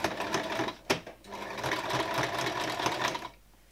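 A sewing machine runs in a short, fairly loud burst of rapid stitching along a shirt sleeve seam, with a sharp click near the start, then cuts off into quiet.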